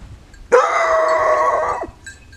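A hunting dog on a wild boar hunt in Navarra or Aragón lets out one loud, sustained howl of about a second and a half, close by, with no talking.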